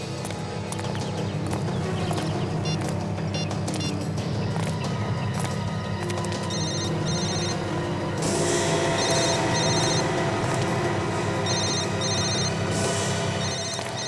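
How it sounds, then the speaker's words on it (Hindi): A mobile phone rings after being called during a police investigation, its repeated electronic ringtone bursts starting partway through and recurring in a steady pattern over a low background hum. "विवेक, जरा उसको फोन लगाओ"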